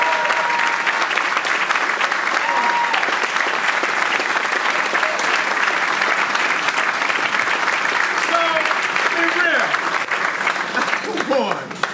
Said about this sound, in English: This kind of project coming down in this neighborhood deserves a standing round of applause.